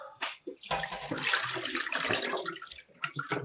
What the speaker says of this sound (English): And then just keep pouring it off.